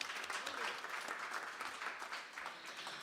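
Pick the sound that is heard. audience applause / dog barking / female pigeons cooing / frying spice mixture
audience applause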